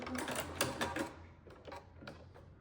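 Domestic sewing machine running a short back-stitch pass on a sou'wester sun hat seam, a fast mechanical needle whir with a low motor hum, in quick bursts that ease off toward the end.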